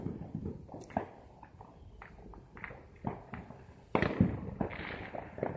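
Scattered Fourth of July fireworks pop and crackle from a backyard beehive setting, a string of irregular, fairly distant bangs, some sharper and closer near the end.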